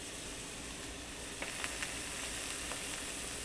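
A small piece of flounder fries in a pan with a soft, steady sizzle and hiss, broken by a few faint pops and spits, close and even throughout.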